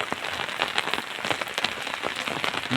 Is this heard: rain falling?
yes